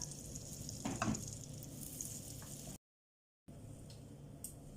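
Ninety grams of butter melting in a pan, a soft even sizzle with a few louder crackles early on, broken by a short moment of silence, with no talking.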